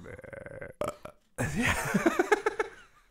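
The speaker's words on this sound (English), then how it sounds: "Even the burps are lackluster in this." Burps from someone drinking beer: a couple of croaky belches arrive among bursts of nearby laughter and voices, ending in a rippling, stuttering burp-like vocal sound.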